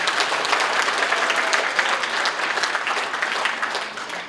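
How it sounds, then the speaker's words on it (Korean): An audience at a Korean political gathering applauds steadily, dense sustained clapping from a crowd that fades slightly at the end. "박수 보내주십시오."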